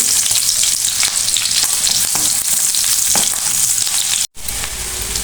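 Chopped onion and chilli hiss loudly in a hot pan for noodles, a dense close sizzle with occasional stirring scrapes, broken by a brief cut of silence near the end before the frying resumes.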